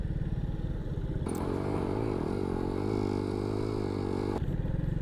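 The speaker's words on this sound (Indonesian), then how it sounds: "Kita ngajak motornya mubeng." Kawasaki W175 classic-style motorcycle riding along a wet road, a steady close engine hum with a rhythmic low throb, a brief clatter as the revs lift and a hiss of wet tyres throughout.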